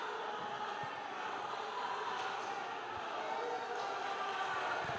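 A boxing audience at a professional welterweight bout fills the room with a dense, steady wash of crowd noise and applause, moderately distant and unbroken for the whole stretch.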